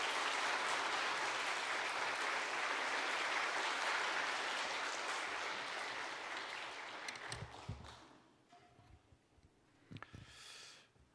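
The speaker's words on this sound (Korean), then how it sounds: "이 시간 나오실 때 환영과 축복의 박수로 모시도록 하겠습니다" A church congregation at a Sunday service applauds to welcome a retired guest pastor, a full, steady clapping that fades out after several seconds into a few scattered claps and room noise.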